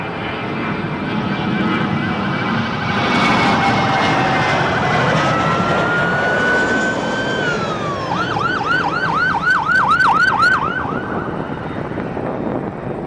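A police car siren passes near an airport, wailing and then switching to a rapid yelp over a steady background drone of aircraft noise.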